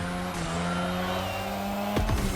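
A drift car slides hard in The Crew Motorfest racing game, its engine droning steadily while tires squeal in long sustained tones, ending in a sharp skid burst; no voices.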